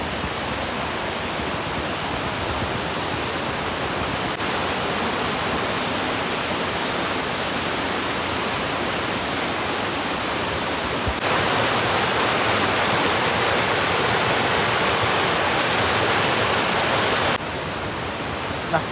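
Rushing water of a river below Curug Lawe waterfall at the foot of Mount Ungaran in Java, a steady broadband roar that stays loud and continuous throughout with no talk.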